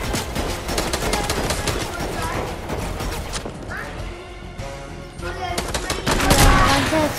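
Rapid gunfire fills a video game squad battle, bursts of automatic fire and sharp shots in quick succession, with a player's voice talking over the action.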